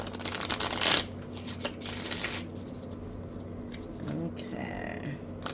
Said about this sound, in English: I'm going to shuffle all these separate because this is a huge deck.